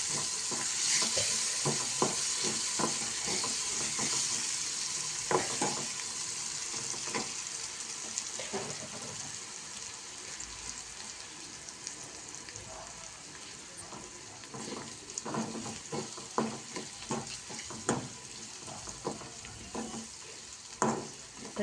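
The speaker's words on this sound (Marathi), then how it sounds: "त्यामध्ये आता ही बारीक चिरलेली कोथिंबीर, पण आपण मिक्स करून घेऊ." Chopped coriander is stirred into a shrimp curry in a hot pan, a steady close sizzle broken by repeated scraping clicks of the spoon that grow more frequent toward the end.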